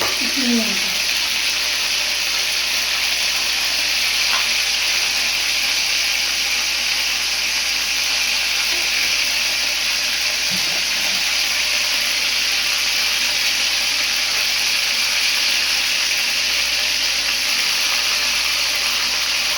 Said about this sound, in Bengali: অল্প তেলের মধ্যে এখানে পাঁচ ফোড়ন আর শুকনো লঙ্কা ফোড়ন দেওয়া হলো।